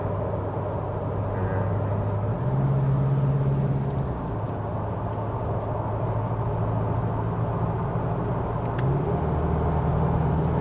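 An Isuzu D-Max pickup with the 2.2 Ddi MaxForce diesel drones steadily from inside the cab as the throttle is pressed, its engine pitch stepping up and shifting between gears over a constant road rumble. No one talks over it.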